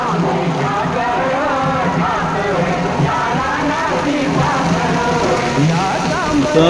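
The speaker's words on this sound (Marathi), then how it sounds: "पाऊस भरपूर आहे" Steady heavy rain pours down continuously, a dense hiss of drops with faint voices murmuring underneath throughout.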